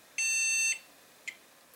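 A Core 2 Duo computer motherboard sounding its beep code at power-on: one sustained high electronic beep lasting about half a second, followed by a brief, fainter chirp, with no talking.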